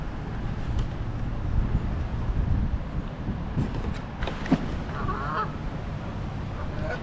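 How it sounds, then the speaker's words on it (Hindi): Geese or ducks honk a few times at a windy pond in London's Kings Cross, brief calls mid-clip over steady gusty wind rumble and distant traffic. "देखो ducks, I don't know if it is duck or swan, I guess duck है।"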